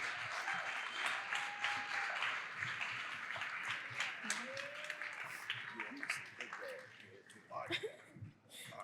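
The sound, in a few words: audience applause for guests on stage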